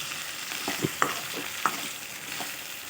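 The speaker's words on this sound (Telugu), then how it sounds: "కొంచెం ఆయిల్ వేసుకొని పచ్చిమిర్చి ఉల్లిగడ్డల్ని బాగా మగ్గనివ్వాలి" Green chillies and onions softening in hot oil in a pan on a stove, giving a faint, steady sizzle with a few soft stirring scrapes and light ticks, no voices.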